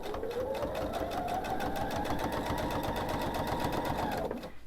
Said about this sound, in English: slightly just going to pull my binding, and this is where the bias will come in handy, and turn and sew around my quilt